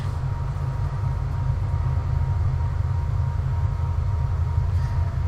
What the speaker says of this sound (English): Oh man, hear that train going by?